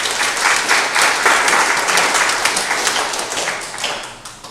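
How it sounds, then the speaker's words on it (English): An audience at a board meeting applauds with a burst of clapping that stays steady and lively, then tapers off toward the end. "I think you ought to get applause for that."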